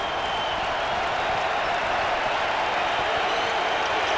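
A Syracuse basketball crowd inside the arena rises to its feet, producing a dense, constant roar of cheering and clapping that stays loud and unbroken throughout.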